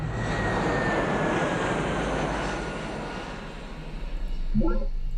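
Jet aircraft flying in the strategy game Sid Meier's Alpha Centauri: a steady, broad engine roar that slowly thins and fades, with a voice briefly talking near the end.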